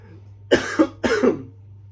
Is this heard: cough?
yes